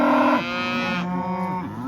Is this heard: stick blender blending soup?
no